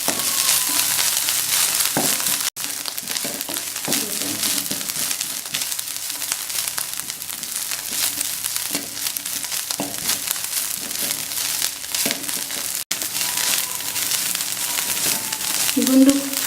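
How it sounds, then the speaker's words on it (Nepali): Gundruk, fermented leafy greens, frying in a pan: a continuous close sizzle with crackles and occasional stirring scrapes that carries on for over fifteen seconds, with a voice faintly present. "गुन्द्रुकलाई चाहिँ राम्ररी एकछिन फ्राई गर्नुपर्छ"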